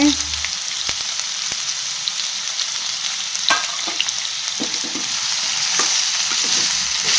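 Tomatoes fry and get stirred in a pan for a Karnataka-style bitter gourd palya, a steady close sizzle broken by scraping spatula strokes and small clicks, with no talk.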